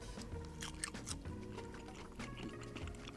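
Crunchy bites into crispy, spicy fried food, a few crisp crackling crunches up close over a quiet background.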